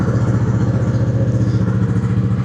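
A 2017 Honda CB 150R motorcycle engine idles close by with a steady, rapid exhaust pulse and low rumble, continuous throughout.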